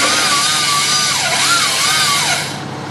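A tree-cutting machine gives a loud, steady high-pitched engine whine like a chainsaw running continuously, its pitch wavering up and down before fading slightly at the end.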